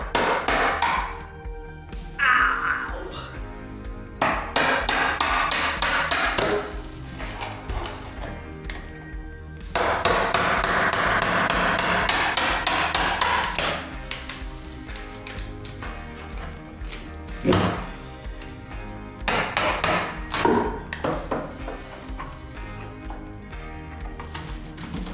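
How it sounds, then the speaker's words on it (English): Hammer and chisel breaking out fittings in a kitchen demolition, with irregular loud metallic strikes and cracks in clusters, mixed with scraping and crunching debris, close by. "Just got to chisel behind, smash it, and carry on."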